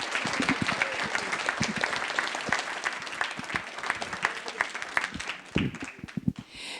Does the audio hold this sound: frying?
no